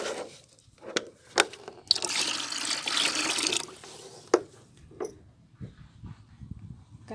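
Rice-washing and dal-washing water is poured into a container and stirred by hand as a liquid plant fertilizer, giving a burst of splashing pour followed by sloshing, squelching mixing sounds and a few knocks, close up.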